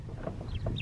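Young chicks and hens in a coop give a few soft, quick clucks and chirps, faint and close, over a low background hum.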